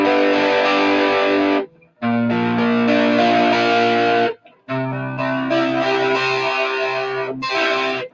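An electric guitar played through heavy distortion with a wide, reverb-tinged tone rings out in sustained chords and held notes, in loud phrases separated by short gaps.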